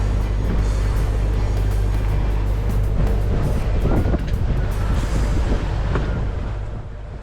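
A chartered sailboat sails in the British Virgin Islands. Steady, loud rushing wind and water noise runs throughout with a low rumble underneath, easing slightly at the close.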